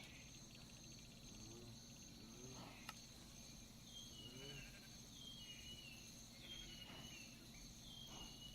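Cricket jungle night ambience in Minecraft: a steady, continuous chirping drone of insects with faint scattered calls, even and unbroken throughout, with no voices.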